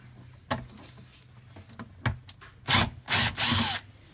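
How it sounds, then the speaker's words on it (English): Screws being driven out of a Richardson jump starter charger with a power tool: a few short, sharp whirring bursts with small clicks between them, close and fairly loud. "the four screws are removed"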